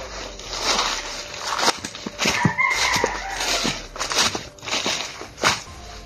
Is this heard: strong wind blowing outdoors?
no